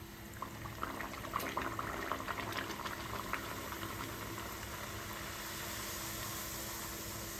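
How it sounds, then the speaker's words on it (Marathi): Ratalu gharge, rolled purple-yam fritters coated with poppy seeds, frying in hot oil, a steady, even bubbling hiss with faint crackles throughout, no voices. "असे तेलामध्ये तळायचे"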